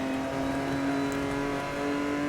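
A car engine roars in the 2012 racing game Need for Speed: Most Wanted, a loud, steady, sustained drone at high revs with no pauses.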